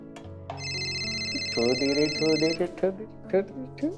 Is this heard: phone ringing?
yes